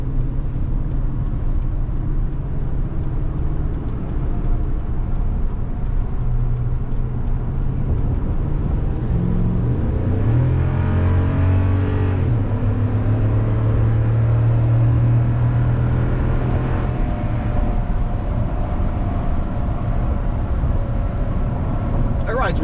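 Truck with a Toytec Aluma suspension and no sway bar cruising on a concrete highway: a loud, steady road and engine rumble heard from inside the cab, with a shifting low drone partway through.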